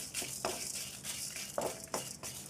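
Dried red chilies fried in a pan with lentils, fenugreek and coriander seeds, heard as soft rustling and a few stirring scrapes and clinks against the pan at a close, moderate level.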